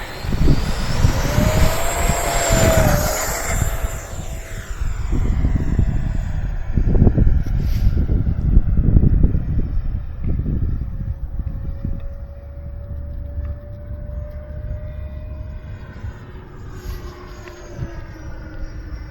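An FMS Futura 64mm RC electric ducted-fan jet flies on a windy day, its whine rising and falling in pitch as it passes and circles, with wind buffeting the microphone throughout.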